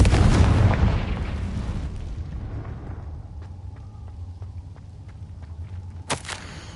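In Hogwarts Legacy, a Confringo spell blast booms loudly and decays into a low rumble, followed by quiet ticking clicks and a short sharp burst near the end.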